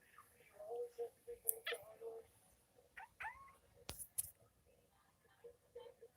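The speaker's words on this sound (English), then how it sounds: "Look at this cute little kitty." A small kitten meows indoors in a string of short, high, separate cries, some rising into drawn-out wails, fairly close and moderately quiet, with pauses in between.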